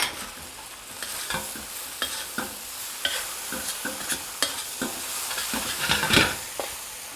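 Shanghai noodles with green onion stir-fried in a pan: brisk, repeated scraping and tossing clatters over a continuous close sizzle.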